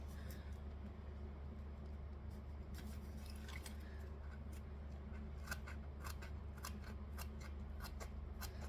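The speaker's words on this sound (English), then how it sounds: "I'm just going to cut around in the circle." Quiet, repeated scissor snips and crisp cuts through cotton fabric, cutting around a circle in small irregular sawing cuts close to the listener, against a steady low hum.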